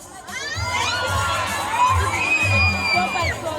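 A crowd of children at a school program shouts and screams together, a loud, sustained burst of excited voices with rising whoops that lasts throughout.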